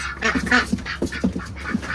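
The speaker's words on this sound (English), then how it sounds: "Ducks. Ducks." Ducks quack and honk close by in a rapid, overlapping series of loud calls, several birds calling at once outdoors in a backyard flock.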